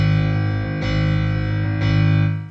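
A sustained Italian grand tone on a Studiologic Numa Compact X SE digital piano rings out with dense harmonics, swelling slightly as a second chord is struck about two seconds in, no voices.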